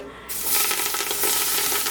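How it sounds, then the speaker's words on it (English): Vegetables hit hot oil and a loud, bright sizzle follows, crackling and popping continuously up close. "it's going to make a lot of noise and sizzling and popping"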